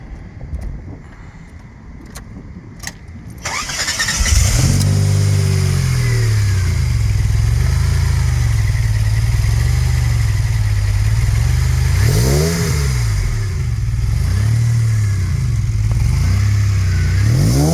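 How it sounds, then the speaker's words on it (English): A DeLorean DMC-12 engine cranks and catches after a few clicks, then settles into a loud, close idle with several swelling revs rising and falling over the steady rumble. "And then I'm going to start her up for you."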